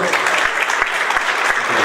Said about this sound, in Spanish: Un aplauso a todos ustedes, por favor